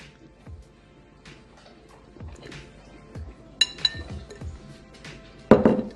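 Cauliflower being tossed with a dry flour-and-spice mix in a bowl, giving soft rustling and scraping with a few sharp clinks of a utensil against the bowl and one louder clatter near the end.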